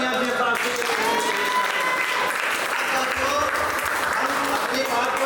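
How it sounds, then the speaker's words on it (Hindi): An audience at a company presentation applauds together, a dense continuous clapping that holds steady, with a speaker's voice over it near the start. "तो एक बार जोरदार तालियां जीएसआरसी के लिए।"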